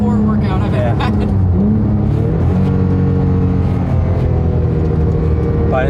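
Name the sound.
Porsche GT3 exhaust at high RPM on mountain road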